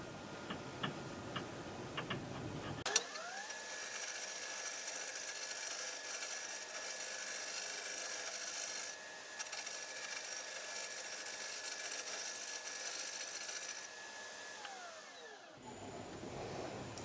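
A woodturning tool rides across a spinning bowl blank on the lathe, slicing off fine shavings with a steady, continuous whirring hiss that runs almost unbroken for around twelve seconds before cutting off, with a faint mechanical hum underneath.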